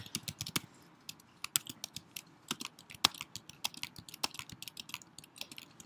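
Fingers type a short sentence on a computer keyboard, a close, quiet patter of irregular clicks with a few louder key strikes and brief pauses between bursts.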